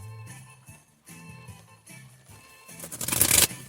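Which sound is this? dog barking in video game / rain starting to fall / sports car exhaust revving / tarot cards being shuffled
tarot cards being shuffled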